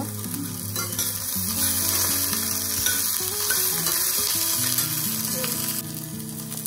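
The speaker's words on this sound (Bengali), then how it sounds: "লঙ্কা দিলাম। ভালো করে নেড়ে নেব।" Chillies frying in a home kitchen pan before ginger paste goes in, a loud continuous sizzle with scraping stirs and a tonal hum running underneath throughout.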